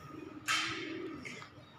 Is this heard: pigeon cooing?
yes